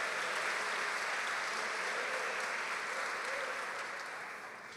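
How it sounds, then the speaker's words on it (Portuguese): A church congregation applauding, a dense, sustained wash of clapping from a large crowd that fades slightly toward the end. "Se for para aplaudir Jesus, aplaude com força."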